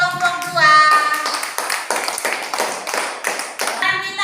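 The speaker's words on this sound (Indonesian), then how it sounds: "Tepuk tangan untuk kelompok 2" A classroom of students claps for a group, their claps a quick series of distinct, fairly loud bursts with a patterned rhythm, while voices are heard at the start and end.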